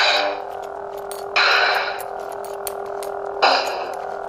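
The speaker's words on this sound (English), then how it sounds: "So this first one is Skywalker ROTJ by Lord Blako" A Skywalker Return of the Jedi lightsaber sound font produces a steady electric hum, broken by two louder, brighter surges that swell and fade, like swings or clashes, with no voices.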